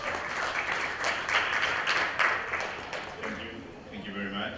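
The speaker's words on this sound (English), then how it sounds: "welcome Diego with a big round of applause" Audience applause welcoming a presenter to the stage at a Seoul blockchain conference, a sustained wash of many hands clapping that swells and then slowly thins toward the end.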